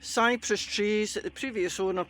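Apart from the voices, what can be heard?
None of the usual background noises is heard.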